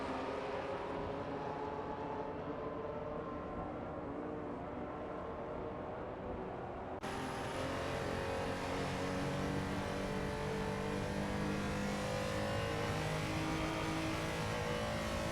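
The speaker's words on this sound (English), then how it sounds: "Today we're watching a thrilling race in our AI racing simulator." Race cars in an AI racing simulator game at a Le Mans-style race, a continuous dense engine roar with layered droning tones that shifts abruptly partway through and holds steady and loud.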